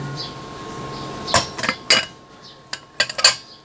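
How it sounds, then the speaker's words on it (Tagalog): Chunks of papaya drop into a pot of chicken tinola soup, making a few faint clinks and light knocks against the metal pot with quiet pauses in between. "Kaya ilalagay ko na po ang papaya."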